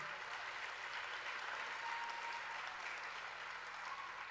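Steady applause from a large audience, continuous clapping at an even level throughout.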